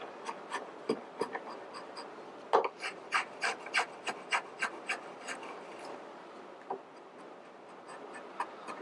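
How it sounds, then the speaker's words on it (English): Drawknife slicing across wood, a series of short scraping strokes in quick succession, close and fairly quiet, with brief pauses between bursts. "I always make a habit of trying to use the ends of the draw knife when I start making a cut."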